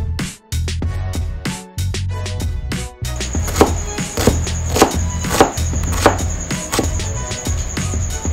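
A knife chops onion finely on a cutting board for kinilaw, a fast steady run of close, crisp knocks that speeds into an even rhythm, with no talking.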